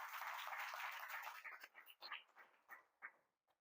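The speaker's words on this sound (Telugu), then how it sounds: "ఒకసారి మనందరము కూడా దేవునికి కృతజ్ఞతలు తెలియజేస్తూ గట్టిగా చప్పట్లు కొడదాం" Congregation at a church silver jubilee celebration clapping in thanks to God, dense applause at first that thins into scattered, uneven claps and fades out, fairly faint overall.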